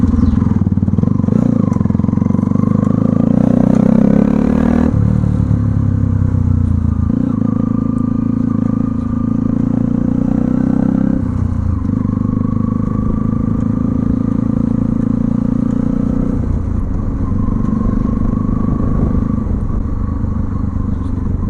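A modified 2013 Bajaj Pulsar NS200 motorcycle engine revs steadily and loud and close, with surges of throttle and crackling pops through the exhaust, continuing alone throughout.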